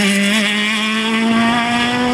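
A 1975 Chevron B31/36 two-litre Group 6 sports racing car drives past close and loud at the Phoenix Park races, its high engine note holding strong and rising slightly in pitch.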